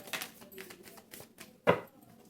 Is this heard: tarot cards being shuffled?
yes